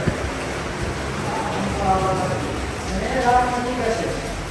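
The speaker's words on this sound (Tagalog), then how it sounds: "ang lakas ng ulan at tumulo na sa water station" Heavy rain pouring down near a water station, a constant hissing wash with dripping, while people talk over it throughout.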